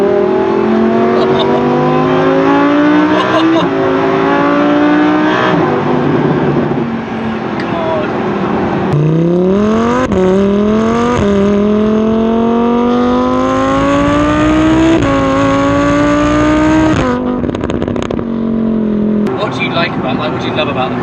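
A Lamborghini Huracan engine rises and falls as it revs up again and again, loud and close, with its pitch climbing in repeated pulls. Talk runs over it the whole time, and sharp pops are barely picked out.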